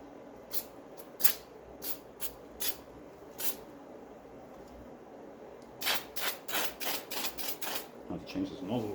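3M spray glue spitting from an aerosol can in short hissing bursts, scattered at first then a rapid cluster of sprays, close and fairly loud in a workshop during a Triumph TR6 seat recover.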